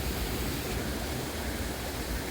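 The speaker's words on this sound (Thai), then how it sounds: "ไฮไลท์ของน้ำตกที่นี่ก็น่าจะเป็นชั้นสุดท้ายนะ" Dai Chong Thong waterfall in Sangkhla Buri, a loud, dense, unbroken roar of rushing water heard up close with no voices.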